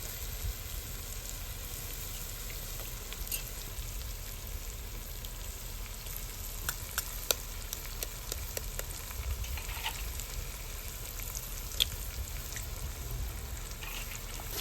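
Onion and tomato frying in a pan for anda bhurji, a quiet, even, continuous sizzle with a few faint ticks and spatters throughout and no voices.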